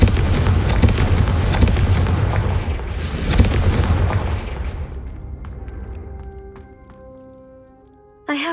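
Confringo fire spell blasts in the Hogwarts Legacy video game, loud rumbling booms stacked into a dense roar that fades out into a ringing tail, then a sharp new burst at the very end.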